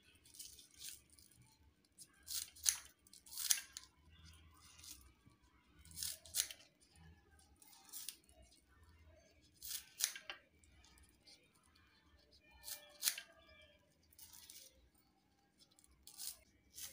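Spring onions are snipped to size in a quiet kitchen with crisp cutting crunches, each coming as a sharp, brief cluster and repeating irregularly every second or two.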